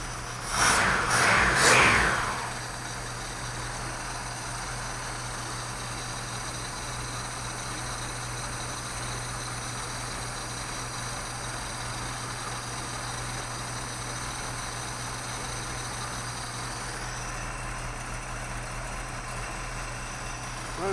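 A 1955 Buick Century engine with a freshly rebuilt Carter carburetor idles low and smooth under 600 rpm, a steady quiet hum with even exhaust, after a brief louder burst at the start.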